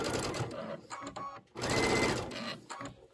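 Sewing machine back stitching the seam of a bench buddy pillow, whirring in two steady bursts separated by a brief pause, close and clear.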